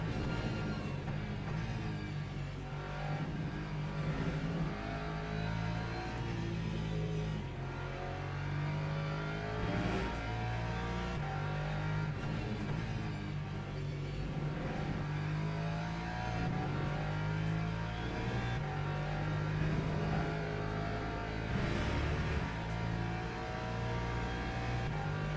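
GT3 race cars and an LMP3 prototype run in a racing video game, a continuous droning engine roar that rises and falls with revs and gear changes, a few engines overlapping steadily throughout.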